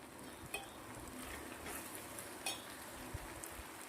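Chinese handi fried rice with chopped green onion being stirred in a pan, a gentle continuous sizzle with scattered clinks and scrapes of a metal spoon against the pan, close and quiet, with no voices.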